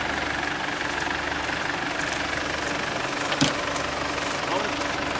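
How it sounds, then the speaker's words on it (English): A car engine idles steadily with a low, even rumble and vibration, a brief clunk partway through, and no clear talking. "just got the engine running for the brakes."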